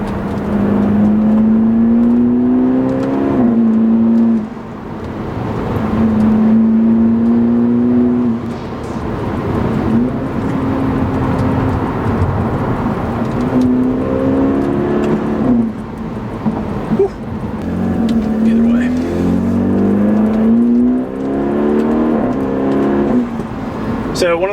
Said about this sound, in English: For it being a four-banger, man, this car sounds pretty good.